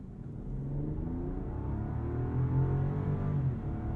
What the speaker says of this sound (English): It was that twin turbo V12 singing for me, a sweet melody.